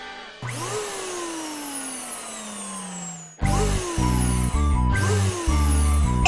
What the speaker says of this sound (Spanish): ¡Es una aspiradora!